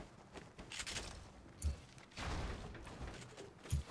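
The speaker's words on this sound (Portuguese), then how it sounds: "Tiros, mais tiros." Fortnite Battle Royale gunfire crackles faintly in scattered bursts, with a couple of sharper thumping shots standing out among softer distant rattles.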